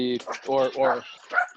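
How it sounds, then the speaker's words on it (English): Dogs bark indoors in a short run of close, loud, tonal barks and yelps, several quick calls in a row with a higher yip at the end. "sorry about the dogs there"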